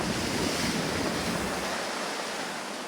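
Strong wind by the sea at Teignmouth Pier, a loud continuous roar of gusts buffeting the microphone over the wash of surf, steady throughout and easing only slightly toward the end.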